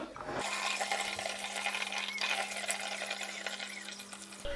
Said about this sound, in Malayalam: ഇതിലേക്ക് നമുക്കത് അരിച്ച് ഒഴിക്കാം